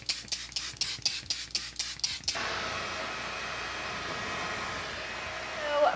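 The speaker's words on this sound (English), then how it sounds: "I'm gonna give it a shake, and then I have to spray it away from my face." A can of makeup setting spray is shaken with about eight quick rattling strokes, followed by a long steady hiss of spray.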